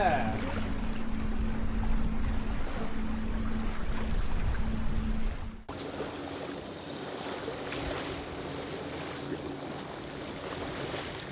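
A sailboat running under spinnaker in about ten knots of wind through a Pacific Northwest inlet, with steady wind rush and water noise against the hull. The sound is continuous and fairly loud, and it grows lighter and more hissing after a sharp change midway.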